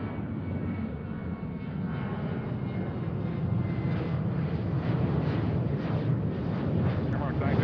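Airliner taking off from Seattle on a flight to Ketchikan, a steady, loud broadband engine roar that holds and swells slightly throughout, with no break in the rumble.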